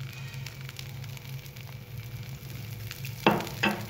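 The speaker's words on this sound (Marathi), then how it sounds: "आणि याच्यावरती तेल टाकायचं थोडं कडेने" Oil sizzling around the edge of a fasting dosa cooking on a hot pan, a steady soft frying hiss throughout with two brief louder crackling bursts near the end.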